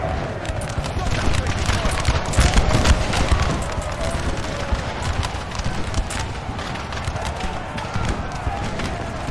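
A dense crackle of musket fire from massed line infantry in Napoleon Total War rolls on continuously in the distance, with rumbling battle noise beneath and scattered voices over it.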